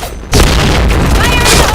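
A grenade detonates in a shooter video game: after a brief quieter moment, a sudden loud boom erupts and rolls on as a dense, roaring blast, with a voice shouting over it.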